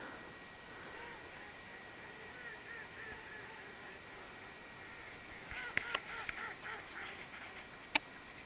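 Ducks quack faintly and far off from a lake in a provincial park at dawn, a steady low chorus of calls with a few sharper nearby noises near the end.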